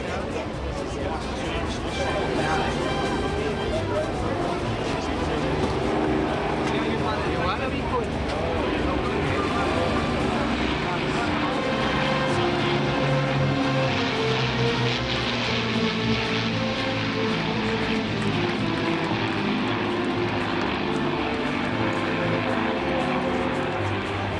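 An Avro Lancaster PA474 bomber of the Battle of Britain Memorial Flight flies at the International Ayr Show, its piston propeller engines droning steadily and loudly throughout, with no talk over it.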